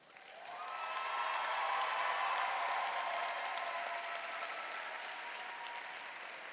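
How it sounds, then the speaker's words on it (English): Graduates at a Northern Arizona University commencement ceremony break into a big round of applause, a dense sustained wash of clapping that swells quickly and holds steady, with faint cheering mixed in. "It is now time to give yourselves a big round of applause."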